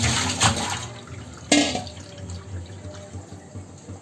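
Mint, betel, guava and tulsi leaves are swished and rinsed in a vessel of water for a cold-and-cough kashayam, giving a steady close splashing and trickling with a sharper slosh partway through.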